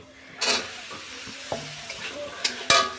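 Vegetable stalks frying in mustard paste and being stirred in a pan, with a few distinct scraping strokes and knocks against a low sizzle, close and fairly quiet, with brief talk.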